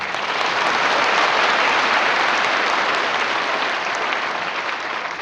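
Seminar audience in Patna applauding, a dense, steady wash of many hands clapping at full strength throughout, close and loud with no talk over it.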